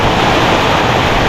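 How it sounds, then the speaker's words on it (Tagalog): Sudden rain driven by gusting wind, a steady broadband wash of falling water and air with no pauses, loud and close, no voices. "Bigla nang umulan na."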